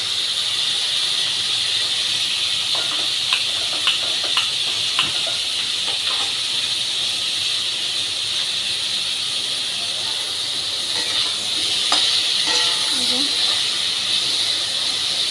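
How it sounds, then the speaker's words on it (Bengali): Cauliflower and potato pieces frying in a pan until they redden, giving a continuous even hiss. Occasional soft clicks and scrapes of stirring sound close by, and no clear talking. "এখানে ফুলকপি আলুটা আমরা আরেকটু ভাজবো একটু লাল লাল করবো"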